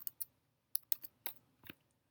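Keys tapped on a computer keyboard while entering a website address, in a few short bursts of clicks with pauses between, close and fairly quiet.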